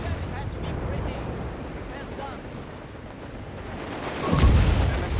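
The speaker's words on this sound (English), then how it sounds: "the machine gets wiped again by the heavy mortar. Well, not heavy mortar, but the heavy mortar bombs" Heavy mortar bombs exploding in the WWII strategy video game Company of Heroes 3: a rumbling battlefield bed of distant blasts and gunfire, with a louder, deeper explosion swelling near the end.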